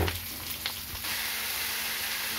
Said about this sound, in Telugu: ఇప్పుడు ఒక 5-6 ఉల్లిపాయలు ఇలా బారుగా తరిగి ఉంచుకుని వేసేసుకుని వేపుకోవాలి.